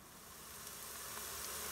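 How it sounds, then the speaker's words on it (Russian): Onion sizzles steadily while frying in a multicooker, a faint, even hiss with no voices. "Наш лук жарится."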